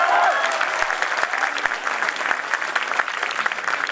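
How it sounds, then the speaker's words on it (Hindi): An audience at a Hindi poetry gathering (kavi sammelan) claps steadily in a dense, loud, sustained wash of applause with a few sharper individual claps standing out. "ताली बजा करके।"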